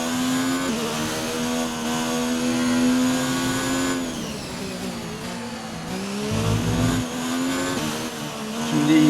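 An F1 2019 race car engine in the video game drones loud and close, a steady high whine that shifts pitch as the car brakes and accelerates again.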